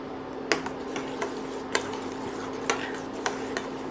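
A spoon stirs a mango and sugar mixture in a pan, sharp scraping taps recurring roughly every half second over a low steady hum, close and fairly quiet.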